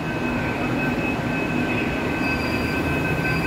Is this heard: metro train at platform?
yes